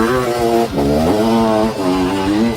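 A loud Honda CR500 motorcycle engine roars close by, its deep, rough, metallic pitch swelling and dropping in several quick revs.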